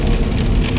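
Steady rain falls outdoors, a dense, continuous hiss of drops hitting surfaces with no talking, holding level throughout the short stretch.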